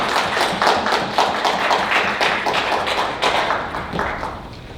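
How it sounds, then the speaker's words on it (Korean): A lecture audience at a North Korean human rights talk claps together in a steady burst of applause, many close hands patting at once, fading slightly toward the end with no talk over it. "제의 동의해 좀 박수 한번 드리겠습니다."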